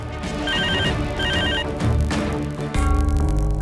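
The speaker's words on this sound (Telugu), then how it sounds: "ఆ ఫోన్ ఎవరో చూడు" A telephone rings indoors with repeated electronic trills in short bursts over a low background of other sound.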